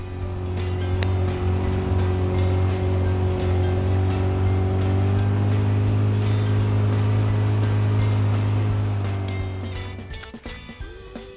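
A boat engine drones steadily and loudly with a strong low hum, setting out onto the water for a spinning-rod fishing trip, then cuts off near the end amid wind and water noise.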